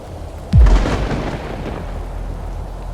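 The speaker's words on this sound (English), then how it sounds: "The calves' baying chorus of fear punctuated the roar of the storm" A single sudden thunderclap breaks over a thunderstorm near a barn, followed by a deep rolling rumble that slowly fades, with no voices.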